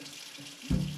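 Warm water for proofing yeast pours into a mixing bowl for homemade bagels, a soft quiet trickle that swells into a louder, fuller gush near the end.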